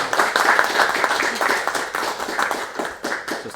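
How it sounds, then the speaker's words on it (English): A single person claps at a quick, even pace, sharp close hand claps repeating for a few seconds without any talk over them. "Just to give myself a little bit of an applause."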